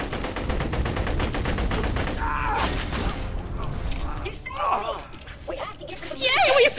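Rapid bursts of gunfire in Borderlands: The Pre-Sequel, loud mechanical rattling shots in a fast regular rhythm, then scattered clanks and shots as a voice talks over the action.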